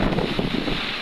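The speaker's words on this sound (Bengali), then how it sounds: "পদ্মায় প্রচণ্ড ঝড় এবং বৃষ্টি" Strong storm wind buffets a boat in the middle of the Padma river at Manikganj, a loud continuous broadband rush with low rumble, steady throughout and no voices.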